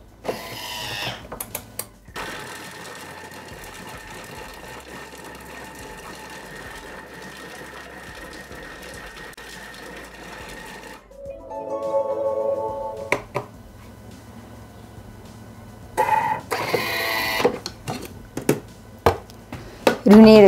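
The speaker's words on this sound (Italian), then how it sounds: "e li facciamo tritare per 10 secondi" Thermomix TM6 blade chopping carrots, celery and onion in its bowl, a steady whirring grind for about ten seconds followed by clatter and brief fainter noises.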